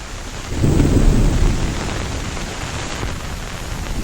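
Steady heavy rain pours throughout, with a deep roll of thunder swelling early and fading beneath the downpour; no voices.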